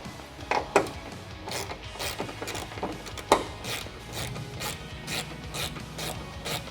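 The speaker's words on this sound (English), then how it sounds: "Our first step is to remove our fender bolt." A wrench ratchets a fender bolt loose on a Nissan 350Z, giving repeated sharp, close clicking strokes in an irregular rhythm, with a few louder metallic knocks and quiet shop background between them.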